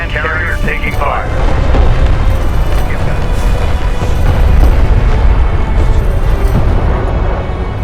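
Booming explosions and weapon fire from a desert battle in the strategy game Homeworld: Deserts of Kharak, a dense, continuous rumble of blasts that swells around the middle, with a brief radio-style voice near the start.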